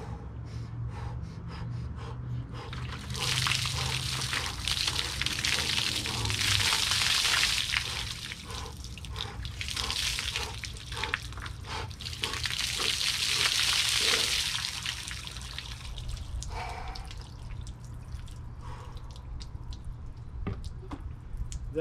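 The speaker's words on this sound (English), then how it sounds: "So I will do the cold water dousing now." Icy cold water with ice cubes is poured over a person's body outdoors, bursts of splashing water alternating with sharp gasps and heavy breathing, fairly close.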